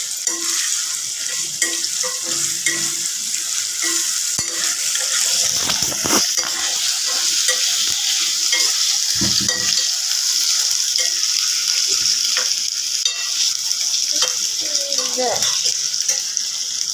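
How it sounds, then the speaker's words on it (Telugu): Ginger-chilli paste fries in a pan with a steady, fairly loud sizzle throughout, broken now and then by stirring and soft scraping. "కొంచెం ఫ్రై అవుతున్నాయి."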